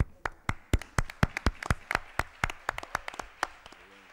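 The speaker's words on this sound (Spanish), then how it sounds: "Vamos a aplaudirle." A small audience claps for someone speaker at a round-table talk on table olives in global markets; about twenty sharp, separate claps spread unevenly, fairly close, thinning out toward the end, with a brief voice at the close.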